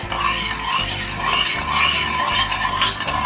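Corn rava kesari mixture stirred in a pan, a steady close scraping and rubbing of spoon against metal with a soft sizzle beneath, continuous and fairly loud.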